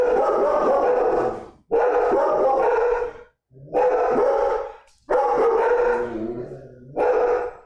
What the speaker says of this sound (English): Dogs are excited.